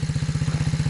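Pit bike motorcycle engine on light throttle, a loud, close, fast regular chugging pulse of a small single-cylinder idling just above tickover, with no voices over it.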